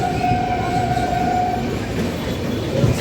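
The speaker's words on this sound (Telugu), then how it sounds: "ట్రైన్ చాలా ఫాస్ట్గా వెళ్తుంది." A passenger train races along near the Godavari at Rajahmundry, producing a loud, continuous rumble and clatter, with a sustained high whine over the first half; no voices.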